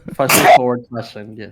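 A single sharp sneeze bursts out loud and close, a broadband burst lasting about half a second, set among casual conversation from several people talking before and after it.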